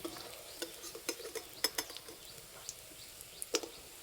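Egg and potato fritters fry quietly in oil, giving a faint low sizzle broken by sharp clicks and taps of a utensil against the pan, spread irregularly and heard alone.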